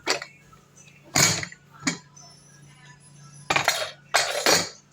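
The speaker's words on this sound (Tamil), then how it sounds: "இறங்கிடுச்சு குக்கர் திறந்துடலாம்" A pressure cooker lid is handled and opened after cooking a kovakkai kuzhambu, giving a few sharp metallic clanks and clinks in short bursts against a faint background hum.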